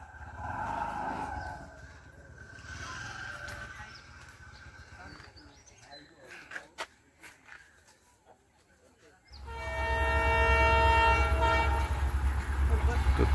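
A diesel-engine express train approaches a closed level crossing; distant rumble and brief knocks give way to a loud, close, sustained horn blast over heavy engine noise, with voices early on.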